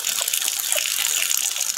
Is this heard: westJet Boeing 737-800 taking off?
no